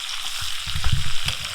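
Snakehead fish fries in a pan with a steady broadband sizzle, plus low thumps and scrapes as the fish is handled and flipped. No one speaks.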